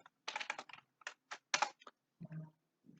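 Bursts of keyboard typing, quick clustered keystrokes with short pauses, fairly close and quiet, followed by a couple of softer thumps.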